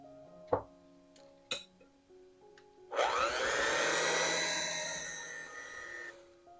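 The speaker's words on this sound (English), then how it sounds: "I'm only going to add a portion at a time, just to make sure that the mixer can handle it" An electric mixer whirs into syrup cake batter made with self-rising flour, a loud, steady motor drone lasting about three seconds after a few clicks and knocks of handling.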